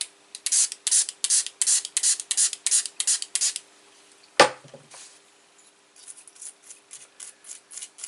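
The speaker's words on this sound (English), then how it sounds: "So now I'm going to clean the display with some WD-40" Quick bursts of WD-40 sprayed from a can onto the display of a Grundig Sonoclock 800 clock radio during restoration: about a dozen short, rhythmic hisses up close, then a sharp knock and scattered faint rubbing.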